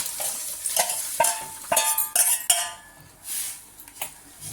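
Metal utensils clink and scrape against a pot of drumstick and potato sambar as toor dal is added, with short irregular knocks over a faint bubbling simmer, close up and without speech.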